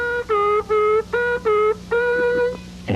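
Harmonica draw notes on the 3 hole bent downward, played in several short separate phrases with clear pitch drops, loud and close with no talking.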